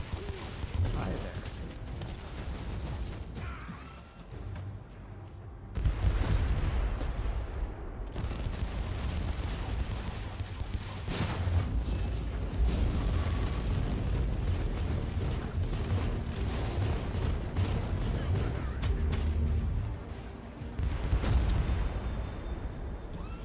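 Mortar explosions in Warhammer 40k: Inquisitor Martyr land as heavy, booming bursts, several scattered across the stretch under a steady game background, with a voice talking between them.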